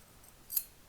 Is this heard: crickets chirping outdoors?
no